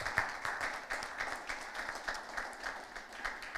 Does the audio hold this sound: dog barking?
no